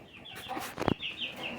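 A rooster and hens cluck in a short burst of clucking, close by, with one louder sharp call in the middle over low background noise.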